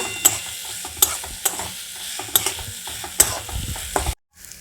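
Soybean and onion-style mixture frying until lightly browned for soyabean paratha, with a steady low sizzle and sharp periodic scrapes of a spatula against the pan, stopping abruptly near the end.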